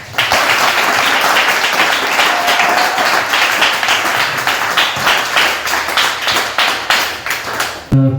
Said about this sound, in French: allons accueillir chaleureusement, avec beaucoup d'applaudissements, Monsieur Ali Adams X.